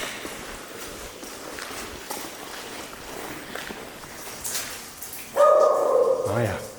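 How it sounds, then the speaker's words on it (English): A guard dog barks in an abandoned communist-era state factory production hall, a few distant yelps rising near the end above steady background noise and people talking nearby. "Is it a guard dog here or what?"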